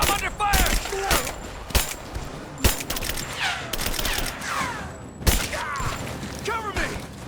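Bursts of automatic gunfire in the Rise of the Tomb Raider video game, sharp cracks and rattling volleys in several clusters, with shouted voices and mechanical clatter mixed in.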